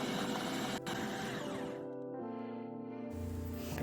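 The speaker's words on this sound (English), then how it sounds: "So we will be grinding them first in the food processor and it will take a little longer time to grind." A food processor grinds broken walnuts, a loud, continuous whirring buzz whose pitch shifts partway through as the nuts break down, with no voices over it.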